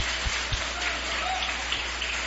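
A church congregation claps together in a dense, steady wash of applause with no break, fairly close and even in loudness throughout.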